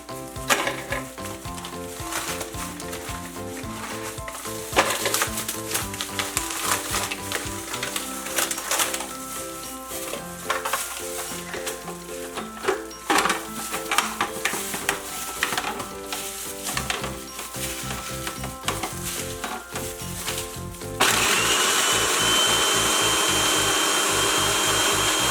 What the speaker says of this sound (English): I'm going to put a few of my Oreos into my food processor so that it can crush it up